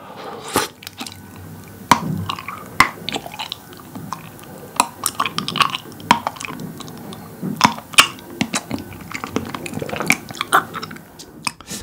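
Close-up chewing of mango-flavored popping boba, with wet squishes, small pops and slurpy mouth sounds in an irregular rhythm, plus occasional light clinks of a spoon or container, loud and intimate with no talking.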